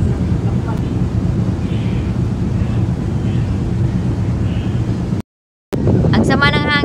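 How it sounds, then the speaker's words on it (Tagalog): Strong sea wind off Bohol, near Pulo Island and Balingoan port, batters the microphone with a loud, continuous roaring rumble. It briefly drops out to silence, then returns with someone speaking over it. "Ang sama ng hangin."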